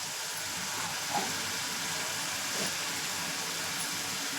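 Spices sizzling in hot oil while being stirred into chicken liver masala. The frying hiss is soft but steady throughout, with occasional faint scrapes of stirring and no voices.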